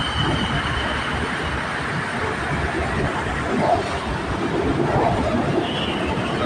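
An elevated BTS Silom Line metro train in Bangkok rumbles past steadily and loudly, with a faint wheel squeal rising now and then over the continuous roar.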